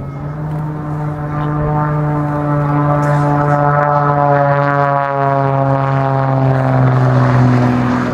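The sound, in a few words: aerobatic kit aircraft flying at an air show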